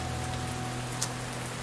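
Rain falls steadily on a surface in the video game Len's Island, a soft continuous hiss of drops with one brief louder patter.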